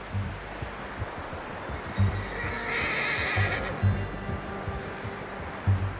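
A horse in Red Dead Redemption 2 whinnies over a steady windy rumble, with soft hoof thuds and faint footfalls scattered throughout.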